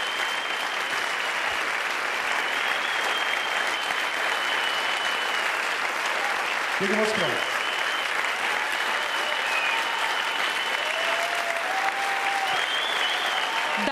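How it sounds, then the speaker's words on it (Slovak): Loud, dense applause from a concert audience after a song, sustained clapping filling the whole stretch with a brief spoken thank-you near the middle. "Davy šalejú."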